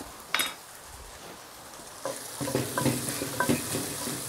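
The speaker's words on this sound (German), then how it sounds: "Und das verrühren wir jetzt und braten es dann mit dem Gemüse noch ein bisschen weiter an." Tomato paste being stirred into seared vegetables in a cast-iron Dutch oven, with a sharp clank of the spoon followed by steady sizzling and repeated scraping strokes close by, no talk.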